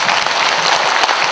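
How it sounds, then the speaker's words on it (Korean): A crowd of citizens at the founding ceremony and rally of a Gwangju military airport relocation council bursts into loud, dense applause, steady and close throughout with sharp individual claps standing out. "동의하시면 한번 박수 쳐주시기 바랍니다."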